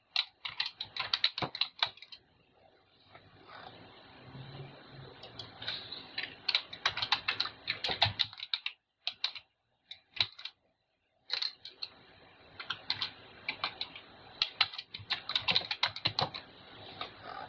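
Computer keyboard typing while entering date, time and location details in Winlink Express software: rapid bursts of keystrokes broken by short pauses, close and clear with no talking.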